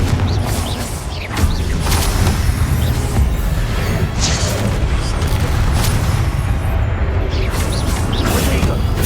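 Confringo blasting spells exploding during an Ancient Titan boss battle in Hogwarts Legacy, loud booming crashes piling up over a constant roar of combat noise, with a voice shouting spell names.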